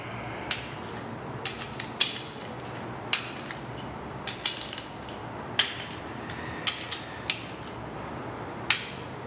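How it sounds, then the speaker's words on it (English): Torque wrench tightening bolts on a 5.3L LS LM7 V8 engine during assembly, set to 11 foot-pounds for a first pass, giving a series of sharp, separate ratcheting clicks and snaps spread irregularly through a quiet workshop. "So now I got my torque wrench set to 11 foot-pounds for our first pass."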